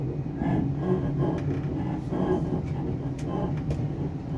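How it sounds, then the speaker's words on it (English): Items rattling in a drawer aboard a moving train, a steady low rumble of the carriage with irregular clinks and rattles on top, moderately loud and close. "That's not me, that's the tables in the drawer."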